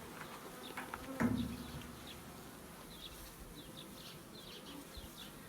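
Bees buzzing faintly around a hive, a thin steady insect drone with small passing whines, and a short louder knock or rustle near the start; no talking.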